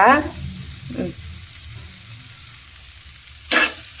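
Okra frying in a pan over a low flame gives a faint, steady sizzle, with a few short bursts of stirring scrapes and clatter near the start and again toward the end.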